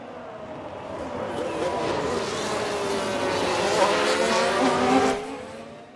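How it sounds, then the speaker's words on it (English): An F1 car in the F1 Manager 2022 racing game locks up its tyres: a loud, steady engine whine rises in pitch for about five seconds with a squealing edge, then cuts off. "Was that a lockup on the track?"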